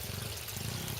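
A small waterfall in a 130-gallon backyard koi pond with a pump filter trickles and splashes steadily, a close, even wash of running water with no voices.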